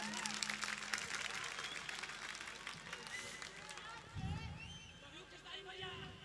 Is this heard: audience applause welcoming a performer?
yes